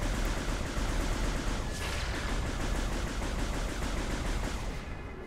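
A turret firing in Metroid Prime Remastered, a loud, dense rattle of rapid shots that keeps going nonstop for several seconds before easing off slightly at the end.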